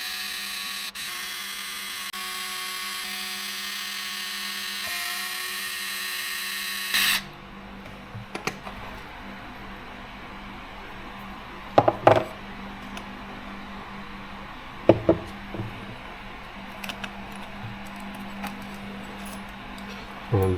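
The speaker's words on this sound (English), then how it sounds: "we will be able to take 1, 2, 3, 4, 5, 6, 7 screws in order to separate this transmission case." A small electric driver whirs steadily to remove the screws from the transmission case of a Redcat Machete RC truck, then stops, leaving faint handling noises and a few sharp clicks as the screws and parts come free.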